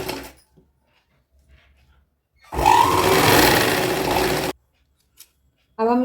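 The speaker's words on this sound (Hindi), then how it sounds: "अब हम इस पे एक सिलाई लगा लेंगे" A sewing machine runs a stitch along fabric for a small girl's midi dress, one loud steady whirring burst of about two seconds set between brief moments of speech.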